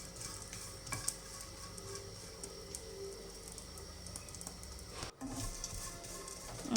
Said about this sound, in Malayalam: അപ്പോൾ ആദ്യം ചെമ്മീനൊന്ന് വറുത്തെടുക്കട്ടെ.